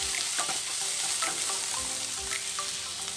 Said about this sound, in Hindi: मीडियम फ्लेम रे प्याज को आमे गोटे रु 2 मिनिट पर्यंत कुक कर देबा